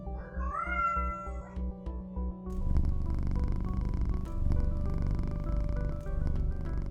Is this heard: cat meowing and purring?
yes